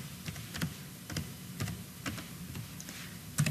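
Keys clatter on a computer keyboard while filling in a bid form, a quiet, irregular run of close clicks with short pauses between bursts.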